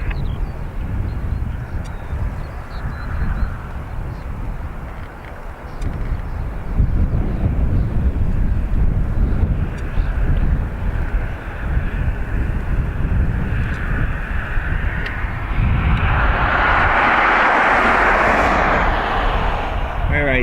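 An airliner at Dublin Airport taxis onto runway 28 right and departs, its engine roar building steadily. A loud rising whine swells near the end, with wind buffeting the microphone throughout.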